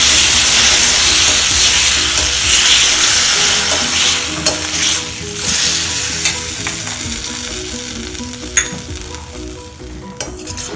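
Citron pickle mixture is stirred in hot sesame oil, a loud, close, steady sizzle and hiss that fades slightly over time, broken by scraping ladle strokes and a few sharp metallic clinks near the end.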